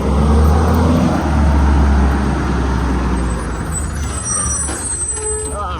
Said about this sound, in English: Going by this trash truck.